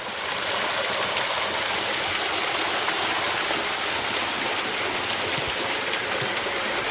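Glory Hole Falls in the Arkansas Ozarks gives a steady, close rushing roar of falling water that holds constant and unbroken from start to finish, with no voices.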